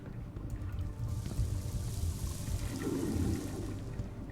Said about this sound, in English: Let me flush to help the cleaners.